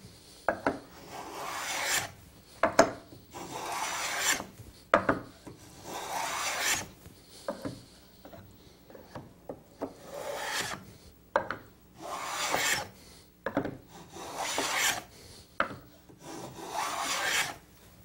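A tongue and groove hand plane rasps along the edge of a wood board in repeated strokes, each a dry scraping shave with short pauses between, steady and close.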